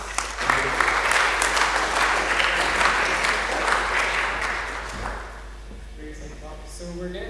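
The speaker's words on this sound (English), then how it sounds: "Give them a round of applause." A workshop audience gives a sustained round of applause, dense and steady for about five seconds before it thins out into scattered claps. Indistinct murmuring and movement follow as it dies down.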